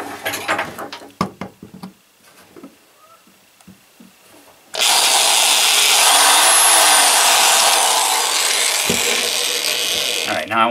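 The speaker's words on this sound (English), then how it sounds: "get the drill out, and drill a hole in that" A few clicks and soft knocks, then a loud, high-pitched electric drill whines continuously for about six seconds, drilling a hole in a Tesla turbine casing.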